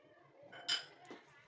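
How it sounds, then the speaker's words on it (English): Hot potatoes being mashed with margarine in a pot, a couple of quick close clinks and knocks of the utensil against metal, otherwise quiet. "keep mashing it"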